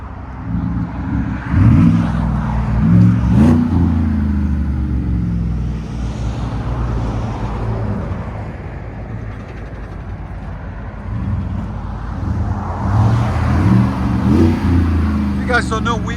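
A 2018 Chevy Tahoe with a 6.2L V8, an 18-inch Magnaflow muffler and dual exhaust revs with a deep rumble that swells in bursts near the start and end, while people talk over it.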